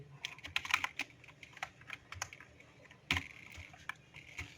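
Close, quiet typing on a computer keyboard, with irregular clusters of light key clicks and a few harder taps, one stronger burst near the end.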